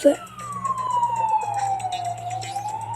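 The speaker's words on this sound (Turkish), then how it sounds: "Ambulans geliyor." A wailing ambulance siren in the video game PK XD sweeps down and back up in pitch, loud and continuous across the whole moment, with faint game background sounds beneath it.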